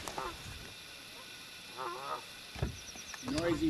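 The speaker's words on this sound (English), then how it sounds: "Noisy birds." Geese honk at a lake in a few scattered, moderately close calls over a quiet outdoor background, with a faint voice now and then.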